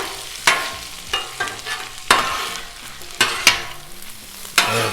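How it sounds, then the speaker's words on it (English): Breakfast quesadilla filling sizzles on a Blackstone griddle while a spatula scrapes and taps the flat top in irregular, sharp strokes about a second apart, close and fairly loud. "I'm just gonna mix all of this together"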